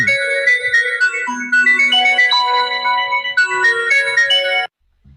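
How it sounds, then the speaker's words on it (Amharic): An incoming call sets off a phone ringtone: a loud, high, tinkling electronic melody that plays steadily for about four and a half seconds and then stops abruptly. "አይ ቲንክ ስልክ እየገባበት ነው።"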